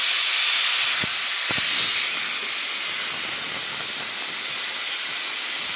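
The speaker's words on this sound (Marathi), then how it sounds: "आता ह्यात मध्ये मी जिरा आणि मोहरी टाकते." Cumin and mustard seeds hit hot oil in a pan and sizzle, a steady loud close hiss after a couple of light taps as they drop in, continuing evenly without talking.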